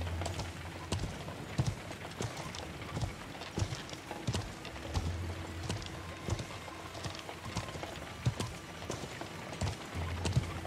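Horse hooves clip-clop steadily along in the medieval video game Feudal MMO, an even rhythmic trotting of soft knocks over a low hum and faint background noise.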